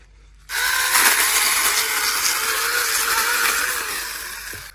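A small chainsaw cutting outdoors in the Pyrenees mountains, a sustained high buzzing whine that starts abruptly, runs steadily for several seconds and eases slightly toward the end, with no speech.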